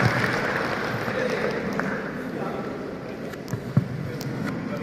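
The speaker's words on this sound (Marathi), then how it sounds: "यांच्या कामासाठी श्रमासाठी एकदा जोरदार टाळ्या वाजवूया आपण या 2 मान्यवरांच्या." At a school education programme's closing ceremony in Ahilyanagar, the crowd gives a sustained round of applause for two honoured guests, a steady, moderately loud clapping wash with a few sharper knocks near the end.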